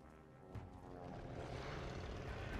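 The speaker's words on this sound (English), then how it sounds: "That's a plane!" A propeller airplane drones overhead in the video game Call of Duty: Vanguard, at Tobruk, its engine swelling louder and fuller as it approaches, a steady low roar with no voices.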